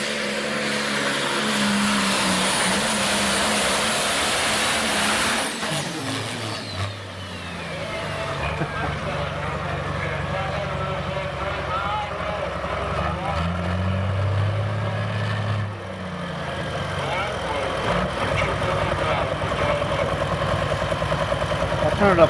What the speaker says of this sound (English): there's free trucking tractor pulling on right now